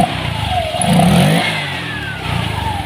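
A Honda Vario 125 LED scooter with a CVT transmission is revved up and then eased off nearby, its engine note rising loudly and falling back toward a smooth idle.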